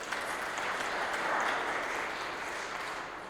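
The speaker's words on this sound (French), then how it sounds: "Les applaudissements." Congregation applauding inside a church during a Catholic Mass in Laval, a steady wash of clapping that holds evenly throughout, moderately loud and reverberant, with no voices over it.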